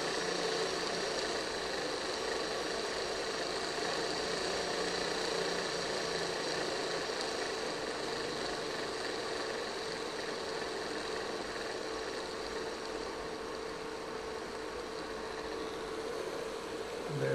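A damaged motor in an Aristo-Craft GP40 model locomotive runs with a steady whirring hum and a faint buzz, continuous and even at close range for the whole stretch, with no talk.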